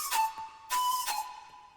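A Serum synth lead with portamento glide, two bright bursts whose pitch slides smoothly from one note to the next, close and loud with no talking.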